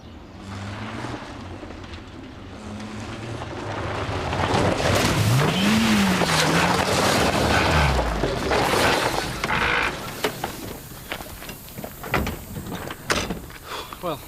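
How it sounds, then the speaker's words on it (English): A car engine fails after being blown. It strains and labours, then a rising whine swells and drops away, followed by a string of knocks and clunks as it dies out. "Sounds like you've blown the engine."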